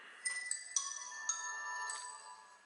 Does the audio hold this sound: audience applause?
no